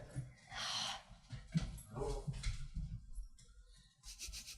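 Close to the microphone, a dog snorts, sniffs and breathes in short, uneven bursts, with soft whimpering noises mixed into the faint, close-up snuffling.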